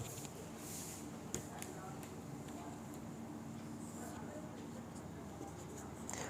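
Chalk or marker scratching across a board during a physics class lesson, soft intermittent strokes under a teacher's steady talking.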